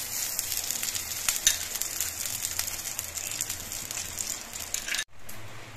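Cashews frying in hot ghee in a kadai sizzle and crackle steadily and close, with a broad, even frying hiss that drops off suddenly near the end.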